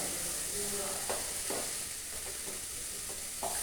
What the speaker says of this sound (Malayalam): ഇതൊന്ന് ഇരുന്ന് വഴട്ടെ